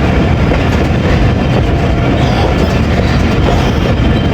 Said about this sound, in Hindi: प्लेटफार्म पे नॉच अप कर दिया है और काफ़ी तेज़ हो गई है ट्रेन हमारी